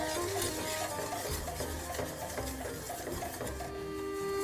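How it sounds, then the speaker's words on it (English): Flour being stirred into butter in a pan, a continuous scraping and stirring with a light sizzle close by. "Got to keep stirring."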